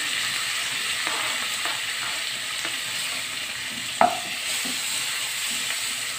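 Dried anchovies stirred in a pan with shallot, garlic, chili and tomato sizzle steadily, with a few soft scraping strokes and one sharper clack of the utensil near the middle.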